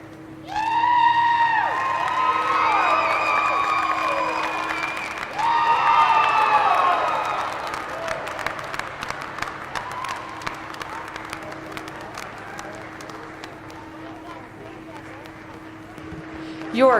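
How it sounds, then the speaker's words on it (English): Crowd applause and cheering at a county fair goat show, starting loud and dense, dropping after a brief lull, then resuming and gradually thinning over a steady background hum, with voices shouting in the crowd. "can we get a round of applause for Miss Hannah Nikolai for being with us all week at the Weber County Unfair?"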